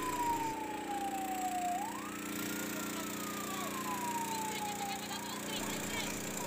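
A fire engine siren wails, sweeping slowly down, climbing, then falling again, sounding somewhat distant over a low background hum, at a café fire in Bengkulu.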